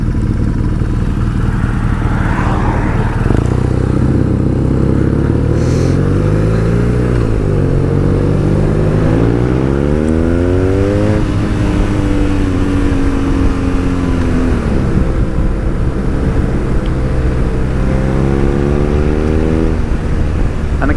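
A BMW R nineT motorcycle with its standard exhaust rides on a Cotswolds country road, loud and close, the engine note climbing through repeated gear changes as it accelerates over twenty seconds of continuous rumble.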